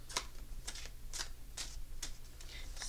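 Tarot cards being shuffled by hand make a series of crisp, quiet riffling bursts about every half second, close and soft against a faint low hum, with no talking.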